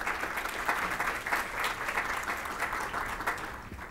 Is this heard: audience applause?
yes